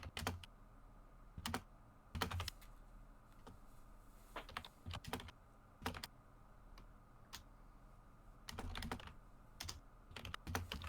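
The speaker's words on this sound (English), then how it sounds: "I've been typing while you've been talking, so it's going to sound a little cluttered" Keys on a computer keyboard are typed in quick, irregular bursts of clicks with short pauses in between, close and fairly quiet in an otherwise still room.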